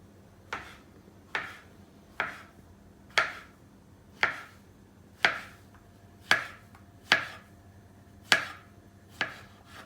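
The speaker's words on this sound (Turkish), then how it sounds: "Evet arkadaşlar malzemelerimizi doğramaya geçiyoruz. Önce mantarlardan başlayacağım." A knife chops mushrooms against a cutting board in about ten evenly spaced, sharp thuds, steady and close, with quiet between strokes.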